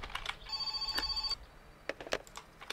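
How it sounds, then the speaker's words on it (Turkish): Telephone ringing in the video game My Summer Car, a steady electronic ring tone lasting about a second with a few brief clicks and knocks before and after, fairly quiet. "Telefon çalıyor."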